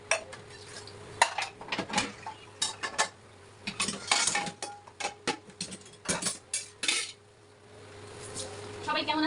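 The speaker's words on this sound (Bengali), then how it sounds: "এখন আমি থালা বাসনগুলো প্লেটগুলো ধুয়ে রাখি" Plates, pots and metal dishes clatter and clink repeatedly during washing, with irregular bursts of knocking and scraping over steady running water, close and fairly loud.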